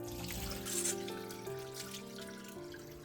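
Rinse water draining through a sieve from kiriboshi daikon, dried shredded white radish, a steady close trickle and patter of water with a brief louder splash near the start.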